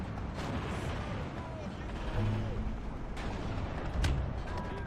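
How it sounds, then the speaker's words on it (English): Battle sounds in Steel Division 2 as a grenade is thrown: steady rumbling artillery and gunfire with a few sharper blasts, dense and continuous throughout. "we can chuck the grenade and we can kind of fall back."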